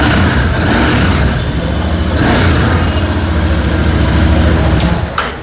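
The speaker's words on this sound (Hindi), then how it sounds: "अब इस मोटरसाइकिल को एक बार स्टार्ट करते हैं" Royal Enfield 650 cruiser motorcycle engine, a new model in a showroom, running steadily and loud up close, with a throaty idle and slight revving before cutting off near the end.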